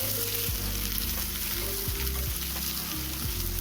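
Green cardamom, coriander seeds and cumin fry in hot oil for a Bihari-style matar paneer, sizzling loud and continuously up close, with a steady low hum under it and no talking.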